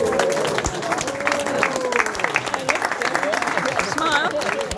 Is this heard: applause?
yes